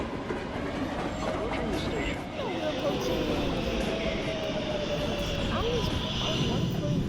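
A New York City subway R142 train on the Manhattan-bound 1 line rumbles and rattles steadily with clattering wheels, loud and close throughout, as a voice speaks briefly over it.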